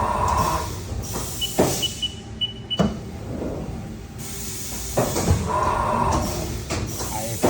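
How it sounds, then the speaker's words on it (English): A Haas VF-2SS CNC vertical machining center changes tools, with whirring motor runs, pneumatic hisses and sharp mechanical clunks repeating in cycles over several seconds, close and fairly loud. "If you want, I can slow down the tool change."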